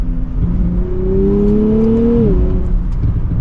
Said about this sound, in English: There's a little bit of turbo lag, and then it kicks, and it just takes off.